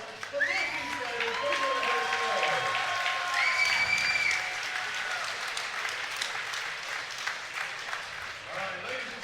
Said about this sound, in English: let's hear a huge round of applause for both these fighters